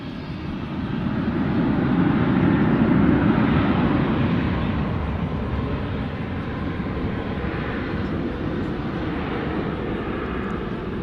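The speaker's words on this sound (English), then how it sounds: "our A321 here, another one. 18 left, taking off" An Airbus A321 takes off from runway 18 left at DFW, its jet engines giving a broad, loud roar that swells early on and then holds steady as the aircraft climbs away.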